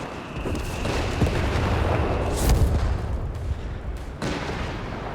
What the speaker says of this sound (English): Artillery fire there.